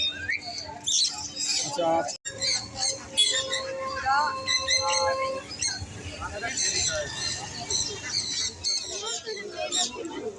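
Crowded birds squawking and chirping at the Srirampur animal and bird market, many shrill overlapping calls close and far, with people talking throughout and a brief sharp break partway.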